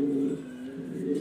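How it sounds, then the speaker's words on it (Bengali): Jharna satin pigeons coo in a low, steady throaty rumble, close and continuous, with no voices over them. "ঝর্ণা শার্টিং কবুতর।"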